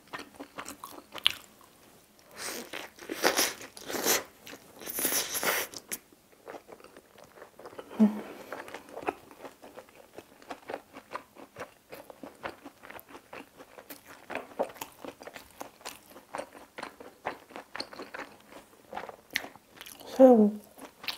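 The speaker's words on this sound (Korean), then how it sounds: "아삭아삭 씹혀요." Crunchy garlic pieces and toppings on a Pizza Hut double garlic steak and shrimp pizza being chewed and bitten close to the mic, with repeated crisp crunches and a louder bite near the end, broken by brief speech.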